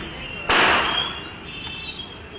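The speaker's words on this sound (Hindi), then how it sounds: "ये देखो ये पटाखे छोड़ रहा है" A Diwali firecracker goes off with one sharp, loud burst whose bright crackle fades over about a second, followed by a faint second pop amid background chatter.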